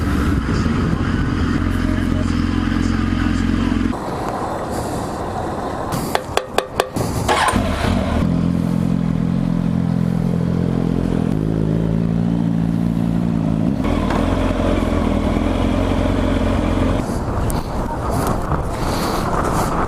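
Kawasaki ZX-10R sport motorcycle ridden on the road, a steady loud engine drone with heavy wind noise throughout, a brief burst of clattering bangs in the middle, and the engine note shifting lower as it slows.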